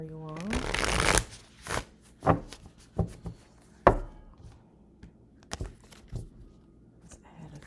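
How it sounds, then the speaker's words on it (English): Tarot cards being shuffled, first a long riffling burst, then a string of separate soft slaps and taps as cards are cut and dropped, close and fairly loud, with occasional brief voice sounds. "So bear with me as I'm shuffling, doing all of this in real time"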